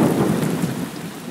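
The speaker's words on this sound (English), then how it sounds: "I hear thunder." Steady rumbling thunder blended with heavy rain falling on surfaces, a continuous low roll that stays loud and close throughout with no voices.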